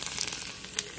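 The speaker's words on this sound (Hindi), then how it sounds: "अब इसको हम छौंका लगा देते हैं।" Red chilli and garlic with panch phoron tempering sizzle in hot oil for khichdi, a faint crackling hiss with small pops, steady and close, with no voices.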